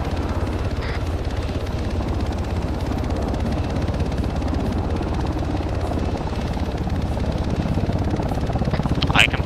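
Helicopter hovering low overhead in the military game Arma 3, its steady rotor thrum and engine drone loud and continuous throughout, with a faint burst of higher noise near the end.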